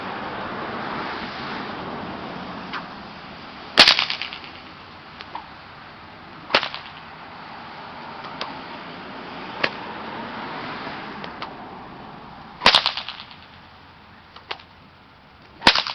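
Sharp cracks from a nylon bullwhip ring out at irregular intervals, several of them, each a quick loud snap over a soft rushing outdoor background.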